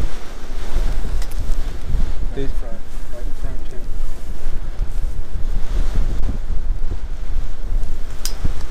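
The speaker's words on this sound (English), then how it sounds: "It's too windy." Strong wind buffets the microphone at a farm pond during a mallard hunt, with constant low rumbling, mixed with the wash of surf nearby.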